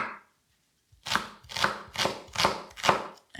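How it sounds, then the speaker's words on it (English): A knife chops a small onion on a cutting board for a dahl, five firm, evenly spaced strokes following a short pause, close and crisp with no talking. "We're going to start with chopping some onion and chopping some garlic and ginger as well"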